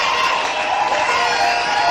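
Dense, continuous roar of a large crowd cheering and acclaiming at a French-language worship gathering, loud and sustained without a break.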